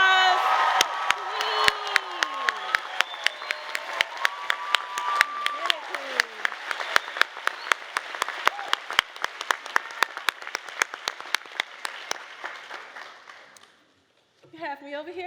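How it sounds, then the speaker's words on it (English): A commencement audience breaks into loud, sustained applause with cheers and whoops, sharp claps standing out over a steady wash of clapping, for about fourteen seconds before it fades and a voice begins speaking. "Give Iyanna another round of applause."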